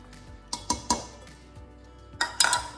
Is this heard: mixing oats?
yes